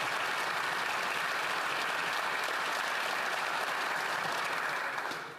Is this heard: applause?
yes